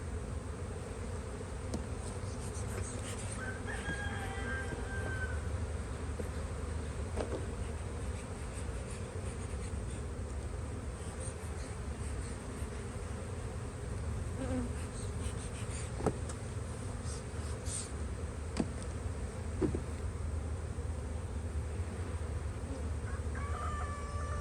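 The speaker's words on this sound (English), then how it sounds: "bees on this frame, how they just like gravity makes them move" Honeybees hum steadily on a hive frame during a spring hive inspection, a dense continuous buzz with a rooster crowing faintly in the distance.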